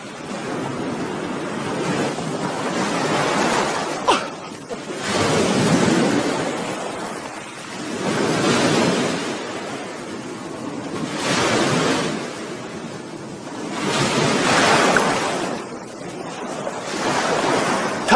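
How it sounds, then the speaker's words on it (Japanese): Sea waves breaking on a shore in slow, regular surges, each swell rising and washing back every few seconds, heard alone with wind noise on the microphone. "海。"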